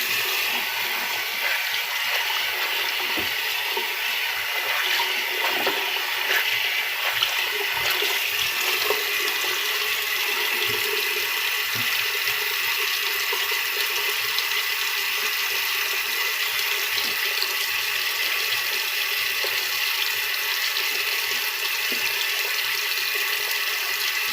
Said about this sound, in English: Time for a rinse.